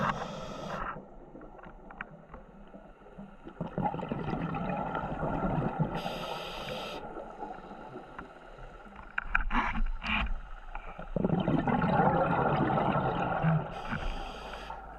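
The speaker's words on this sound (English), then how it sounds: "what you can hear now is a load of boats that are heading into Fermain Bay" Motorboats heading into Fermain Bay heard underwater during a scuba dive, a muffled droning engine hum rising and falling, with bubbling and bursts of diver's exhaled bubbles, no talk.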